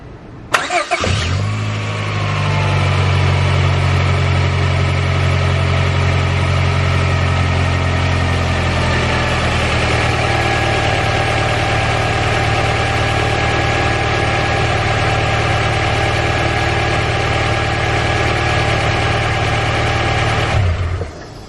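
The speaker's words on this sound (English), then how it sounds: "Alright, so the car is idling smooth." A Honda Prelude H22 engine cranks and catches, revs briefly, then settles into a steady, smooth idle hum that runs unchanged until it abruptly stops.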